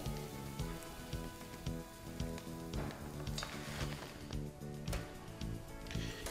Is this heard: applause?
no